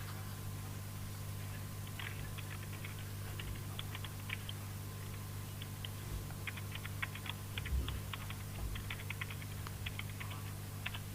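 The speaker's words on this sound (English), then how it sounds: "I just need to type up these details." Quiet typing on a computer keyboard, short bursts of light clicking keystrokes separated by brief pauses, against a steady low room hum.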